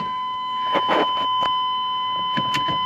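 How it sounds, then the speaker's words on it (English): A steady electronic warning tone sounds inside a car, joined by a few short beeping bursts and clicks, with no one speaking. "let's get all kinds of buzzers going"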